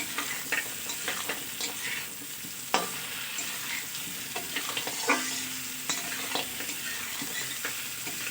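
Fried lentil dumplings (bori), potato and eggplant being stirred in a pan for a fish curry, with steady frying sizzle and repeated close spatula scrapes and knocks against the pan, no talking.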